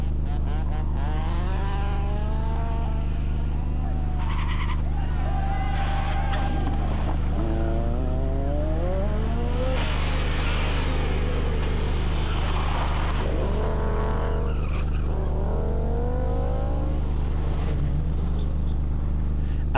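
Rally cars race and overtake on a stage of the 1986 Ypres 24 Hours Rally. Engines loudly rev up and down in repeated sweeps over a constant heavy rumble, with no break in the noise.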